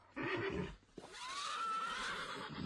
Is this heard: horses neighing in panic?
yes